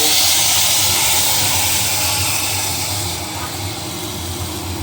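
Dal is poured into hot oil tempered with black five-spice, fennel seeds and dried red chillies, giving a loud, close steamy hiss that gradually settles into a quieter, steady sizzle, with no talking.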